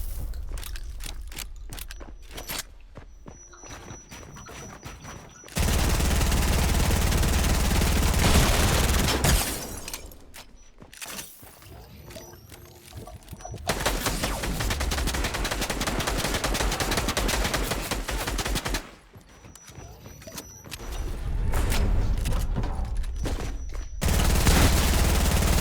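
Gunfire in the video game Fortnite, with long, loud bursts of rapid automatic fire that repeat in several stretches, broken by brief quieter pauses.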